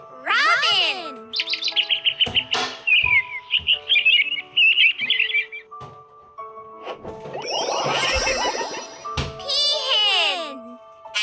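A robin sings bright, varied warbling phrases and chirps, loud and close, in short bursts separated by brief gaps, with other bird calls mixed in and no talk.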